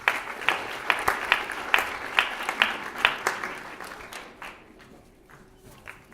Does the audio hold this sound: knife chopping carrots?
no